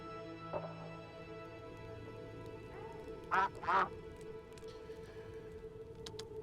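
Two short, bright quacks from a cartoon duck in a city-building video game, close together near the middle over a quiet steady ambient bed, with a faint blip earlier and small chimes at the end.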